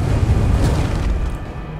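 A fireball blast in the video game Agony lands as a deep, heavy boom with a rumbling low roar that fills the short moment and fades slightly toward the end.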